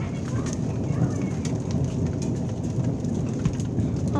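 A thunderstorm with hail, heavy rain pouring down in a dense, loud, continuous wash with a low rumbling of thunder underneath, steady throughout.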